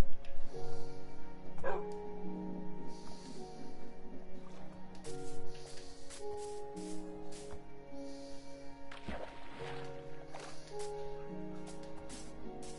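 Dog barks and yips from a video game, with a boat nearby, come in short bursts over sustained tonal background music, moderately loud and repeated across the passage.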